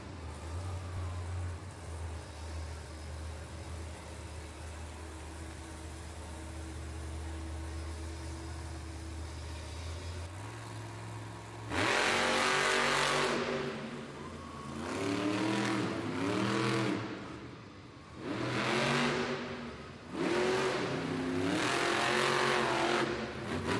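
MJ Solorio's Toro Loco Monster Jam truck, celebrating 25 years, roars through an arena competition run. After a quieter rumbling stretch, the engine bursts in loud and near, then revs hard in repeated surging waves.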